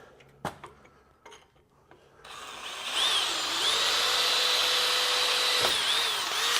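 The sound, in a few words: power drill with 1/8 inch bit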